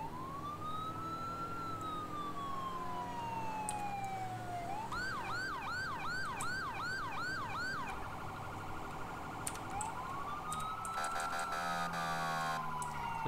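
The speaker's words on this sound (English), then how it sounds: "Now let's turn our sirens on." Emergency vehicle sirens from a GTA 5 sound pack, a wailing rise-and-fall tone that switches to a fast yelp, then a piercing hi-lo pulse, loud and continuous with engine noise beneath.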